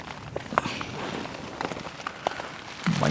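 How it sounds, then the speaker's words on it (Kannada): Night rain in a forest falling steadily on a nearby surface, with scattered louder drops pattering through a soft continuous hiss, fairly quiet and without voices. "ಮಳೆ ಸ್ವಲ್ಪ ಕಮ್ಮಿ ಆಗಿದೆ"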